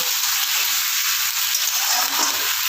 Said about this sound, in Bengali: এবার আমি ভালো করে একটু নাড়াচাড়া করে সবজিগুলোর সঙ্গে মিশিয়ে নেব।